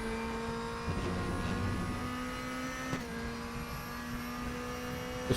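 A DTM race car at EuroSpeedway Lausitz in the DTM Experience 2015 racing game, its engine holding a steady, buzzing drone as the throttle is applied, with a couple of brief knocks.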